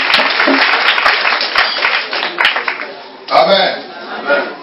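Church congregation clapping and cheering in acclaim of Jesus Christ, a loud dense burst of applause with voices mixed in, swelling again toward the end.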